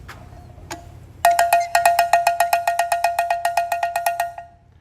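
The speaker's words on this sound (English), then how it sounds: "this stream needed more cowbell." A cowbell is struck in a quick, steady run of about twenty bright, ringing hits after a lone tap, loud and close with no talking over it.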